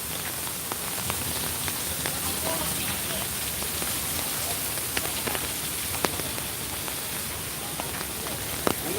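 Steady rain falls at Disney's Animal Kingdom, a dense continuous patter with scattered sharper drips close by, holding an even level throughout with no voices.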